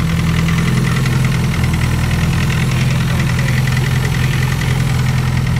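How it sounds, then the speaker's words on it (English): A B-series engine idles steadily up close, its valvetrain ticking with a slightly noisy clatter over a continuous low hum, with no voices. "Everything seems to be sounding all right kind of noisy, might need a valve adjustment"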